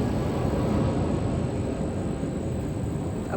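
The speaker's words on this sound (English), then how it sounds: "A plane." A plane passing overhead outdoors gives a steady, broad engine roar that holds loud and even throughout, with no voices over it.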